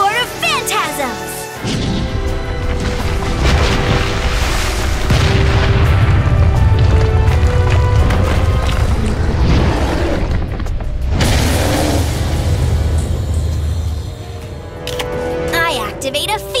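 Raviel, Lord of Phantasms is summoned in Yu-Gi-Oh! Duel Links with heavy booming impacts, a rumbling low roar and crashing mechanical effects over a swelling musical tone. A voice speaks over part of it.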